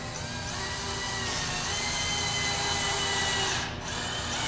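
A cordless drill with a clutch drives a screw into a wooden board during assembly of a full-sized chair kit. Its steady whirring runs loud and close, with a brief dip near the end.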